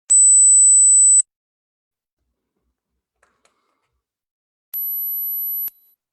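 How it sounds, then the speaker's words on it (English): Two piercing, steady high-pitched mosquito ringtone tones, each about a second long, separated by several seconds of silence. "they call this the mosquito ringtone"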